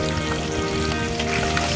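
Small mourala fish sizzle in mustard oil in a kadai, a constant close crackling fry that holds level throughout without any voices.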